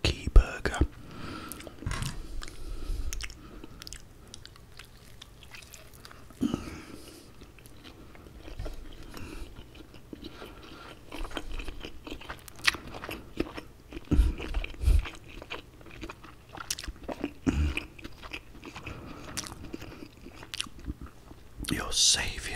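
A Loki-themed burger is bitten and chewed close to the microphone, with repeated soft crunchy bites and wet chewing in an irregular rhythm between quiet, whispered-sounding pauses.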